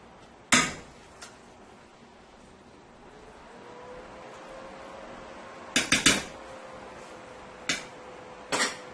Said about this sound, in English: So I'm going to go ahead and plate my beans and rice